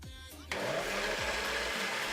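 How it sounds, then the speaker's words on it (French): A kitchen blender starts abruptly and runs with a steady, loud motor whir that holds unbroken to the end, after a brief moment of quieter sound. "Quelques difficultés à faire fonctionner le mixeur?"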